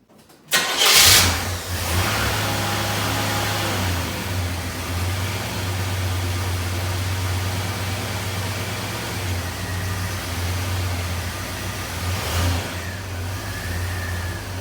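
A 1973 Chevelle engine cranks and catches within about a second, then settles into a steady, close idle with a low droning rumble, and one brief rev swells near the end.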